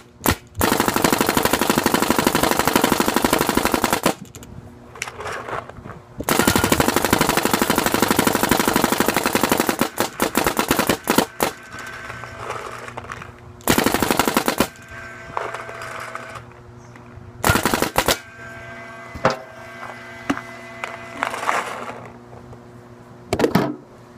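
Tuned Planet Eclipse GSL paintball marker firing rapidly in long, loud full-auto strings of sharp pops, broken by brief pauses and shorter bursts.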